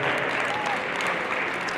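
Steady applause fills a hall at an indoor national championship gold medal match, a continuous wash of clapping with faint crowd murmur throughout.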